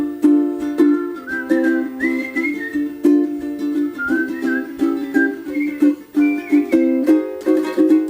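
A person whistles a clear, melodic tune alone, with bright sustained notes rising and falling in short phrases and brief breaths between them, close and fairly loud throughout.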